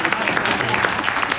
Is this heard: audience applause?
yes